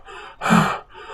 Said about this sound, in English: panting heavily as I tried to catch my breath.